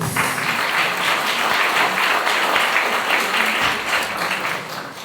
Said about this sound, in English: Another round of applause for Kabiri, please.